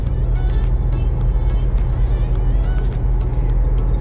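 Steady low road rumble and tyre noise inside a 2008 Toyota SW4 cruising on a highway on cruise control, a constant drone with no speech.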